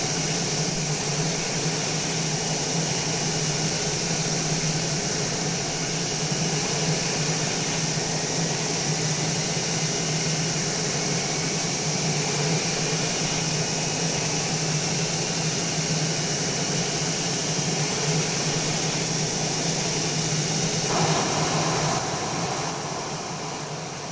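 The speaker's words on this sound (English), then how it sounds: "And then we're going to go to the engine crank." An aircraft engine spools up in Microsoft Flight Simulator during aircraft carrier operations, a loud sustained roar and whine holding steady with a rising tone threaded through, and no one speaking over it.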